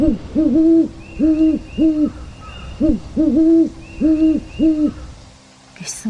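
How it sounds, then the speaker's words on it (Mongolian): An owl hoots over and over in a dusky forest: clear, low, paired hoots in an uneven rhythm, fairly close and prominent, with a brief rustle at the end. "бүгдхэн дуу алсаас сонсогдох нь шар шувууны дуу ажээ"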